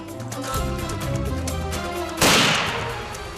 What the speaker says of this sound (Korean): 곧바로 두 번째 총소리가 울려 퍼집니다.